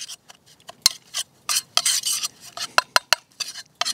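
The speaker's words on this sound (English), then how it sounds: "All I'm doing right now is just combining the oil with my dry mixture until it's nice and crumbly." Oil being stirred and cut into a dry bannock dough mixture by hand outdoors, heard as close, irregular scraping and clinking strokes in quick uneven bursts, fairly quiet, with no talking.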